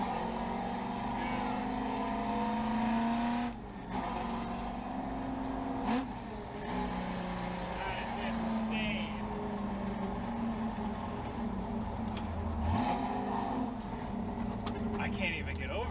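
A loud, modified street-legal truck engine rumbles and revs up and down in several surges, close and heavy, with people talking excitedly over it.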